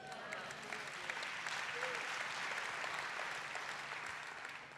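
A church congregation at a revival service claps in a steady, dense burst of applause that fills the room at moderate distance, tapering slightly toward the end.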